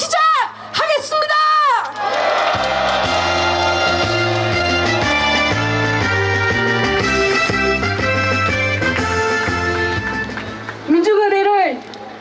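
A crowd at a 2023 anti-US rally in Korea lets out loud bursts of shouting and cheering at the start and again near the end, with steady music playing in between.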